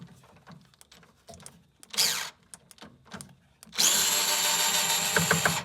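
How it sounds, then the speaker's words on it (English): DeWalt drill with a magnetized 5/16 socket driving screws while restoring a 1961 Drexel Motorola SK52 stereo console: a brief whirring burst, then a loud sustained run of nearly two seconds, with handling noises between. "I've got my trusty DeWalt with a magnetized 5/16"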